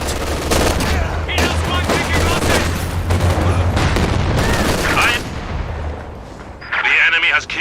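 Dense, continuous gunfire and artillery booms from a war video game: overlapping shots and blasts at full loudness, with a steady low drone and a brief burst of brighter noise near the end.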